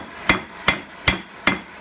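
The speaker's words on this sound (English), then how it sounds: "This is a pretty light hammer" Four evenly spaced hammer blows ring out from a light hammer of about 2.5 pounds forging a cross peen key chain: sharp metallic strikes, close and loud, with no talk.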